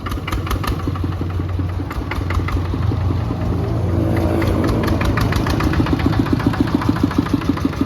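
Eleven-horsepower engine on a second-hand walk-behind tractor with a Big Jiw tail, running steadily and loud up close, its rapid even chugging continuous throughout with no talk over it.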